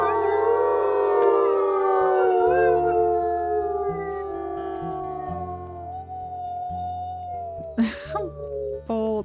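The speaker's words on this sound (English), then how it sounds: "let's do a howl as well." Wolves in WolfQuest howl together in long, overlapping rising and falling notes, loud and near, over steady low game music, with a few sharper yips near the end.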